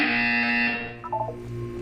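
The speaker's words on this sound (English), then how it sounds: "You will hear a buzzer." A test-chamber buzzer in the Portal 2 video game sounds as a steady, loud electronic drone with strong harmonics, holding for nearly two seconds with a brief warble partway through.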